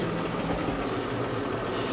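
A farm tractor engine runs steadily at close range with the operator in the cab, a continuous low rumble holding an even level throughout with no talk.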